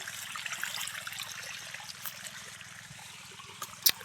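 Irrigation water flowing through a farm field, a soft, steady trickling and gurgling at low volume, with a brief sharp knock near the end.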